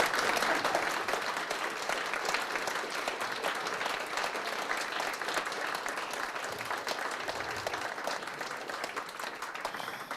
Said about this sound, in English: That is awful weak applause.